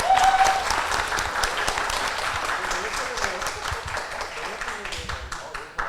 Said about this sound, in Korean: 뜨거운 박수와 함성으로 이렇게 맞아주셔서 정말 감사의 말씀을 먼저 드리겠습니다